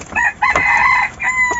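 A red junglefowl rooster crows once, loud and close, the call rising and then holding a long drawn-out final note over about a second and a half, with no voices.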